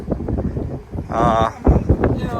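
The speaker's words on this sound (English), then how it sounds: "Still windy as hell out here" Strong wind gusts buffet a microphone outdoors beside a 24-year-old truck stopped on the roadside, a steady roaring rush with louder bursts while someone talks over it.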